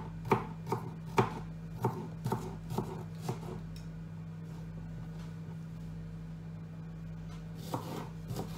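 A knife chops peppers on a board in a home kitchen, a run of sharp, fairly quiet knocks in uneven rhythm that pauses mid-way and then returns briefly, over a low steady hum.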